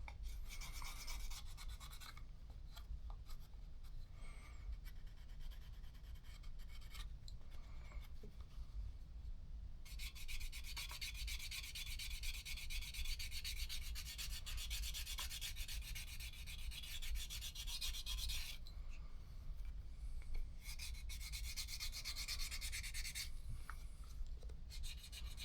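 Burnishing a leather knife sheath by hand, a close steady rubbing with rapid back-and-forth friction strokes that grow harsher and louder in bursts partway through.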